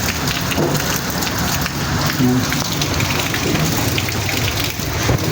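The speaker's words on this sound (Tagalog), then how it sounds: "Yan, pabugso-bugso yung ulan." Heavy rain pours steadily in strong gusts, a dense, loud, continuous hiss of water drumming on surfaces with no break.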